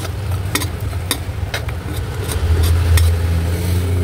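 Onion rings frying alongside pork chops in a pan: a steady, loud sizzle and low bubbling rumble, punctuated by occasional sharp clicks of stirring, growing slightly fuller toward the end, with no one talking.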